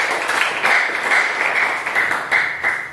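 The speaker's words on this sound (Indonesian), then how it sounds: "tepuk tangan dulu buat teman kalian berdua" Schoolchildren in a classroom give two classmates a brisk round of clapping, a dense, close patter of many hands that runs continuously without talk.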